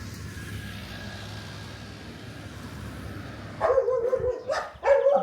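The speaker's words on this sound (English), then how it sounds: "Dogs are barking." Dogs bark in Dergachi, a town northwest of Kharkiv in Ukraine: a few loud, close barks break out after a stretch of quiet outdoor rumble.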